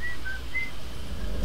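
Short, clear whistled notes, three or four brief tones in a row, rise over a steady low background hum while exploring Rivet City in a video game.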